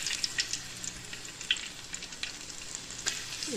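Garlic frying in a hot pan as it goes in for nasi kuning kampung, a steady soft sizzle with scattered crackles and small clinks, close by and alone.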